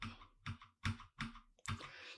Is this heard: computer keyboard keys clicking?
yes